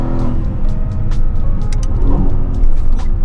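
Mercedes-AMG GT S with twin-turbo V8 driving hard on a bumpy highway, its engine a loud, steady roar heard from inside the cabin with rising revs and road rumble throughout.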